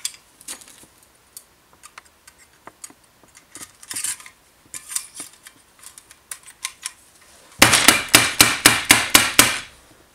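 A hammer stapler drives staples, first with scattered light taps, then with a close, loud run of about eight evenly spaced sharp impacts near the end.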